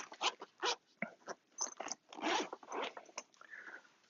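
A zipper on a padded laptop bag pulled in short, uneven runs, rasping bursts broken by brief pauses as it works around the corners, close and clear with no talking.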